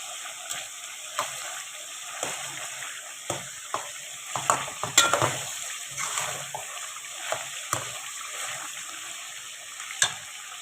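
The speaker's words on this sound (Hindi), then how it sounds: "तो जब सारे छिलके उतार चुके तो इसको सालन के अंदर अच्छे तरीके से मिक्स करके फ्राई कर लेना है।" Chicken karahi with tomatoes and masala frying in a pan, stirred in a steady run of soft scrapes and gentle sizzling, close and fairly quiet, with no talking.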